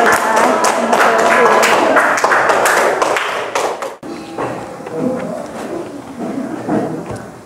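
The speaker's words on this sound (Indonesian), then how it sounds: "Berikan tepuk tangan dulu." After a student group finishes presenting in an Indonesian-language teacher-training class, classmates clap in loud, uneven bursts for several seconds, then the clapping thins into scattered taps, thuds and room noise.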